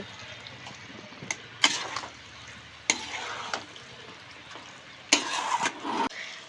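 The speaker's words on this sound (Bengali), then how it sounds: "এবার এই চিকেনটাকে আমরা অনেকক্ষণ ভালো করে কষিয়ে নেব" Chicken pieces coated in spice masala are stirred in a frying pan for a chicken curry. A steady close sizzle runs throughout, broken by a few sharp clattering scrapes of the spoon against the pan, with no speech.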